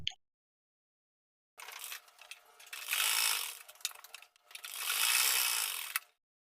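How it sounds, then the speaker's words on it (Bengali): A sewing machine stitching the side seam of a kameez in two bursts, fast mechanical whirring runs that start up, stop briefly, then run again before going quiet. "এবার আরেক সাইডে আমি সেম ভাবে সেলাইটা দিয়ে নিচ্ছি"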